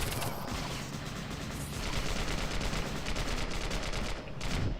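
Sustained automatic enemy gunfire in the Global Agenda game, a fast rattling stream of shots that runs nearly unbroken for several seconds at a steady, moderately loud level.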